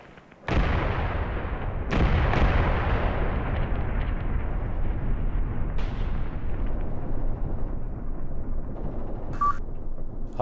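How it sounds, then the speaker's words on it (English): Distant artillery and gunfire in the war game Graviteam Tactics: Mius: a few heavy booming blasts with long rumbling decays over a continuous low battlefield rumble, plus a short high tone near the end. "Artillery in the distance."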